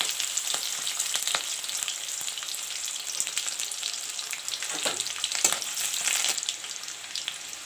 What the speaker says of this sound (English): I have taken green chilies, slitted up, about 5 green chilies. Put it in the oil.